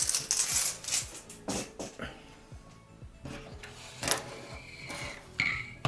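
A coin is picked up and handled during disassembly of a Dyson V8 vacuum head, giving a series of close, sharp metallic clinks and taps with small rattles in between.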